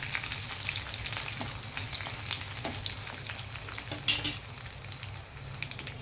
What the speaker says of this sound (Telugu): జీలకర్ర ఆవాలు ఎండుమిర్చి కరివేపాకు కొద్దిగా వేగిన తర్వాత